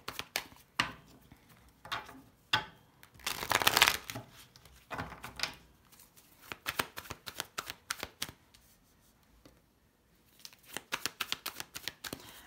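Tarot cards being shuffled by hand, close and clear, in bursts of crisp riffling slaps and flicks separated by short pauses, with one longer, denser shuffle partway through.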